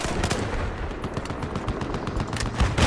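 Dense automatic gunfire from a Battlefield 4 multiplayer match in Rush mode, with rapid overlapping shots and bursts continuing throughout at a loud, steady level.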